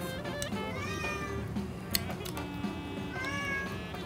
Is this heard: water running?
no